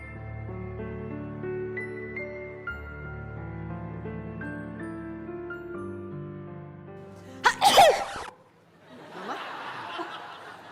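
A woman lets out a single loud, explosive sneeze, a habit she attributes to karate training, over background music, followed by a few seconds of soft hiss.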